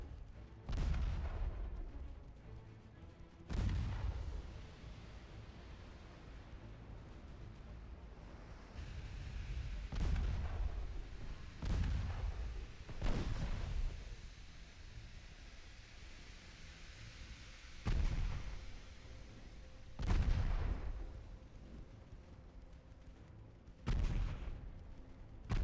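Naval guns fire in a warship battle game: about eight heavy booms at irregular intervals, each with a rumbling decay, over a constant low background hiss.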